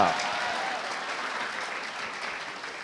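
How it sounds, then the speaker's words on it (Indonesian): Applause from the audience at a stand-up comedy show, a steady wash of crowd clapping at moderate level that gradually eases off over about three seconds, with no voice over it. "Tepuk tangan dulu buat Kalbis"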